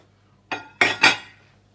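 A serving dish of ham and cheese coquillettes is lifted with three quick, sharp clinks of ceramic and cutlery close by, each ringing briefly in a quiet room.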